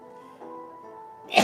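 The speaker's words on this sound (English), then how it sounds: "Gonna sneeze here." A single sharp, forceful sneeze bursts out at the very end after a stretch of low, steady tonal hum, loud and close to the microphone.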